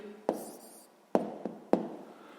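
A pen writes an answer to a sixth-grade math exercise by hand, giving a few sharp, close taps and short scratches at uneven intervals, with quiet room tone between them.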